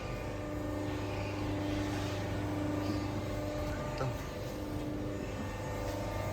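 The motor of a 30T automatic coin minting press with auto feeding and unloading runs with a steady, even mechanical drone carrying layered tonal hum, continuous and unchanging throughout.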